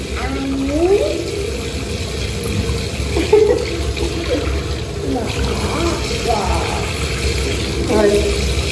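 Tap water runs steadily into a sink while a child's face and hands are washed, a continuous splashing trickle close by with brief voices speaking over it.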